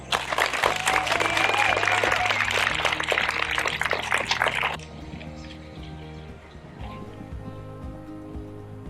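An audience at a youth appreciation night applauds honorees, dense steady clapping for several seconds that cuts off, then quieter room sound with faint voices.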